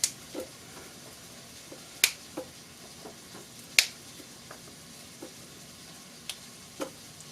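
Asparagus spears being snapped by hand to break off their woody ends while cooking a cheap meal, a series of sharp, isolated cracks spaced a second or so apart over a quiet kitchen background with no talking.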